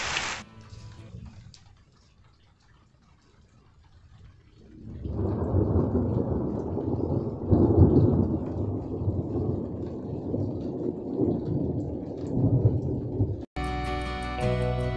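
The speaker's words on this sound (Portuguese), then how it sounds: "Começando a chover aqui pra nós." Rain begins falling outdoors on a rural property during fence building, with distant thunder; the soft hiss of rain builds suddenly into a steady, dense roar that holds for several seconds.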